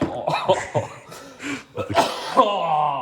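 Someone coughs several times in a row, hoarse and close, with a short throat-clearing sound and a brief bit of voice near the end.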